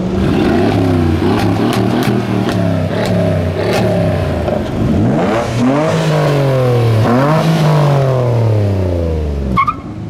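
A car engine at a Turkish car enthusiasts' meetup in Canada revs hard and continuously, its pitch climbing and falling in repeated sweeps, loud and close with no talking.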